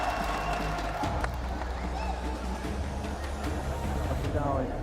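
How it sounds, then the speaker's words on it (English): A live esports crowd at a Fortnite Esports World Cup event cheers and applauds for Team Orchids, a steady wash of voices and clapping filling the hall, with a brief swell near the start. "Thank you very much to cheer for us as you do now"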